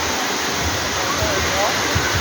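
Water pouring steadily at Balite Falls in Amadeo, Cavite, a dense, constant broadband rush close to the microphone with faint talk mixed underneath.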